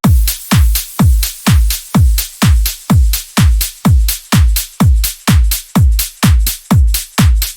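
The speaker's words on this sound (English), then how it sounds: "Drums all together sounds like this." Tech house drum bus loop with a punchy kick on every beat, claps, crisp hi-hats and shakers, all summed through one mixer track with transient shaping; steady, loud and dry, repeating evenly with no voices.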